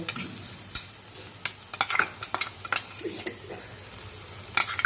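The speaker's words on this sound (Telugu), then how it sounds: "టమాటా ముద్ద వేసుకొని ఒకసారి వేయించాలి" Tomato paste frying in butter in a pan: a low sizzle under repeated sharp scraping and clicking strokes from stirring, with a few louder clatters near the end.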